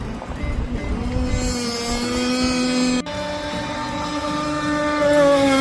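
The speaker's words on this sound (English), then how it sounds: "This appears to be some guys playing with RC boats." A small high-pitched radio-controlled boat motor whines steadily, rising slightly in pitch as it speeds up, loud and continuous.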